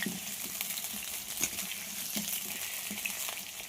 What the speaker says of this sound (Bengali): আলুটাকে খুব ভালো করে ভেজে নেব।